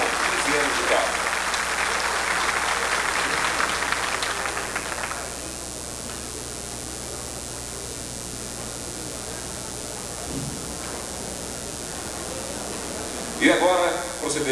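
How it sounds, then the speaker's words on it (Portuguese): Audience applause at an anniversary ceremony for a metro company: a dense wash of clapping that fades after a few seconds into room hiss and faint murmuring, with a short burst of noise near the end. "Mais uma vez, senhoras e senhores, os nossos aplausos ao Abdias Itamar de Oliveira"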